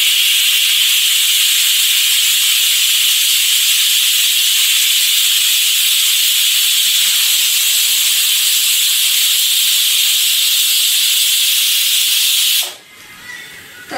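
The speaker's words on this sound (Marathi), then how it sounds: "आपण आता कुकरच्या 4 शिट्ट्या करून घेऊयात।" Pressure cooker on the stove cooking chickpeas (chole), releasing a loud, continuous high-pitched steam hiss that holds steady for many seconds before cutting off abruptly near the end.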